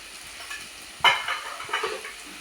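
Onion paste and turmeric frying and being stirred in a pan for a fish curry, giving a steady soft sizzle with a few scraping stirs, close by and without talk.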